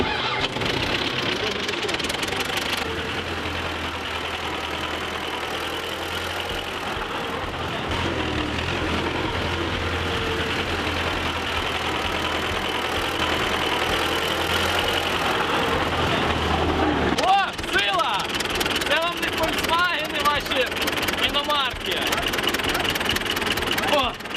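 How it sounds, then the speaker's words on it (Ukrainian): A tractor engine on a village farm sputters to life and then runs with a steady rumbling idle, loud and close, with people talking over it near the end. "В мене прекрасна можливість зараз спробувати себе за кермом трактора."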